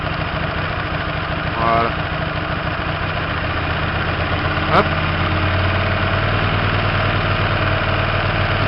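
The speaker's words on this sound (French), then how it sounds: "Là vous entendez le moteur, il prend un petit peu de régime." A Hyosung 125 GTR motorcycle engine idles steadily up close, its revs lifting slightly partway through, with someone speaking briefly in French over it.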